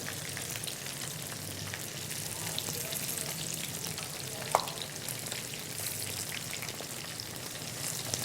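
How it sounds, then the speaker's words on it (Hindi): Chicken frying in a pan gives a steady bright sizzle with crackling spatter throughout, plus one sharp tap of a utensil partway through, close and even, with no voices. "इस तरह आपने चिकन को फ्राई करना है"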